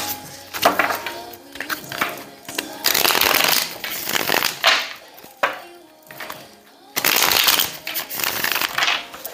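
Tarot cards are shuffled by hand in repeated bursts, crisp riffling and sliding card sounds close to the listener, separated by short quiet pauses, without talk.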